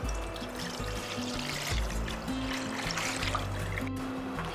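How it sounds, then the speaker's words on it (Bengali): Milk poured into a kadai on the stove, a soft continuous liquid stream with a light trickling texture, faint and steady throughout. "দিয়ে দিচ্ছি দুধ।"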